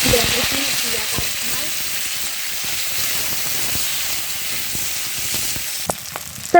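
Onions and garlic fry in a pan with a steady, close sizzle, like frying for a fish curry with tomato and potato. A few sharp stirring clicks and scrapes come toward the end.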